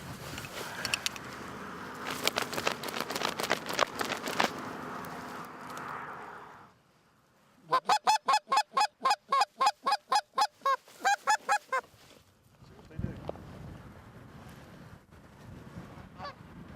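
Geese honking as they fly low over a hunting blind, a rapid series of loud, rhythmic honks from several birds after a noisy stretch, fading into quieter rustling near the end.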